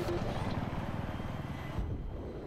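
Helicopter in the video game Battlefield 3, a steady low rotor and engine rumble that holds at a constant level throughout, fairly close, with a soft thump near the end.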